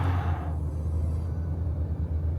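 Car engine rumbling low and steady while driving, a continuous deep drone with road noise in a quiet cabin, no talking.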